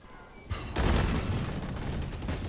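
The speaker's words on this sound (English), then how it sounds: "That's a lot of shooting they can hear going on" Rapid bursts of gunfire from a professional Valorant match, including Sheriff pistol shots, dense and continuous at moderate distance, over a noisy arena-like background.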